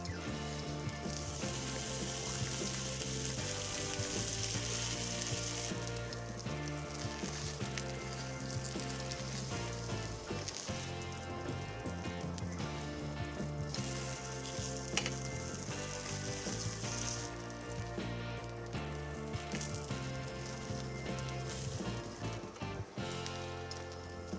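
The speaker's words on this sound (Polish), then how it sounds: "Dolewamy odrobinę oleju na patelnię i smażymy ją powoli na wolnym ogniu" A mortadella slice fries slowly in oil over low heat, a dense, continuous sizzling and crackling hiss with no voices.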